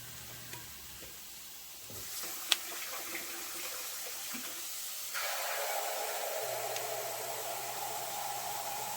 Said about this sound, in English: So now what we're gonna do is we get us some water